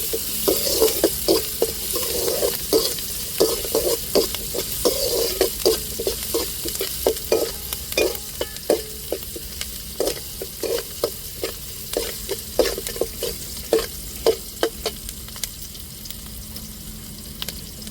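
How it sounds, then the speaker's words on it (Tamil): Onions sautéing with rock salt in a pan, stirred with a utensil that clicks and scrapes in a steady, fairly quick rhythm over a continuous soft sizzle, close and moderately loud, with no voices. "வெங்காயம் நல்லா வதங்குறதுக்கு நான் கல் உப்பு தான் சேர்த்துருக்கேன்"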